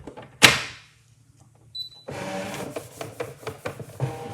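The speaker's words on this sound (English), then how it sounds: "I'm going to go to Scan, Direct Cut, temporarily save the memory into the machine and say Start." A Brother ScanNCut machine starting a scan in Direct Cut mode gives a sharp click, then after a pause a steady motorized whirring with repeated mechanical clunks and ticks as the carriage moves, close and fairly loud, without talking.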